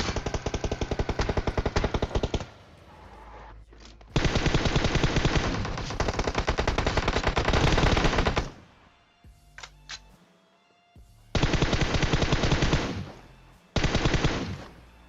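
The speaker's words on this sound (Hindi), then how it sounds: "मैं क्या करता हूँ, गोली गोली चलाता हूँ, एक एक गोली लगती है मेरी उसको" Rapid bursts of automatic gunfire in PUBG Mobile in several loud stretches, separated by brief lulls with a few isolated shots and clicks.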